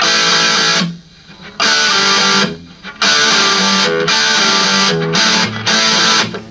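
Loud, crunchy electric guitar through a distortion pedal plays old-school, classic-rock-style chords in bursts with brief pauses between them, close and solo.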